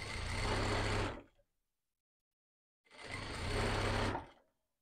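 Sewing machine stitching a Christmas cloth doll, running in two steady mechanical bursts of about a second each separated by a silent pause, loud and close with no voices.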